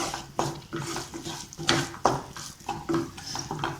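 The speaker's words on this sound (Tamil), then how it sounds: "நல்லா கிளறி விடுவோம்" A utensil scrapes and knocks steadily against a pan while cooked filling for stuffed wheat chapathi is stirred, close and moderately loud, with irregular clatters.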